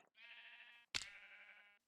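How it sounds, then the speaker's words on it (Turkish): A Minecraft sheep bleats twice in quick succession, two clear, drawn-out cries close by in an otherwise quiet moment. "başka hayvan var mı bu adada? Ah, bir tane daha koyun var."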